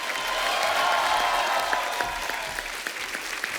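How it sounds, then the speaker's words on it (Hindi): A studio audience at a film star-cast event applauds to welcome an actor, loud, full clapping that holds steady and then thins slightly, with a faint sustained tone beneath. "जोरदार तालियां होनी चाहिए।"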